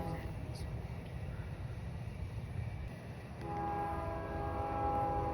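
A CSX freight train pulled by GE locomotives rumbles past, and a sustained horn blast comes in partway through over the rolling noise. People talk nearby.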